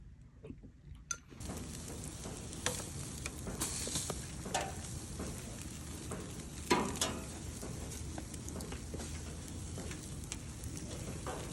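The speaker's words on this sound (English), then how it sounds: "I'm grilling up some steaks right now for dinner." Steaks sizzle on a grill in a steady, dense hiss flecked with small pops and crackles, heard up close with no voices.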